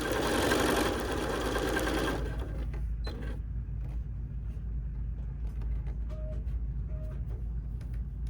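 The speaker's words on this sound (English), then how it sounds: "And now we have one more section to sew together, and that is these 2 seams here." Sewing machine stitching quilt block seams, a loud continuous whir for the first two seconds, then stopping; faint mechanical creaks and small clicks follow in a quiet room.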